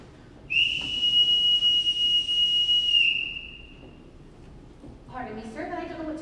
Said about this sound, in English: I won't need this whistle, Captain.